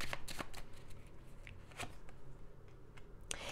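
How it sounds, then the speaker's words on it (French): Tarot cards being shuffled before another card is drawn: a run of crisp, close riffling and slapping bursts, loud at the start and again near the end, with softer shuffling between and no talking. "On va regarder, on va tirer une autre carte."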